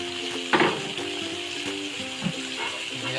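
Bopis ingredients sautéing in a pan give off a steady close sizzle, with a few brief clinks and stirring scrapes near the start and again around the two-second mark.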